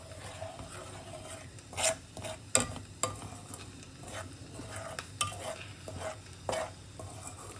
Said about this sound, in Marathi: यामध्ये ना तुपामध्ये पीठ भाजायचीच थोडी मेहनत आहे